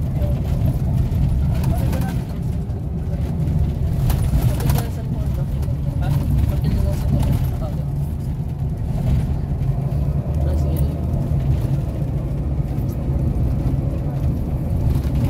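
Inside a bus travelling on a long ride, a steady loud rumble of engine and road noise with bumps and rattles throughout.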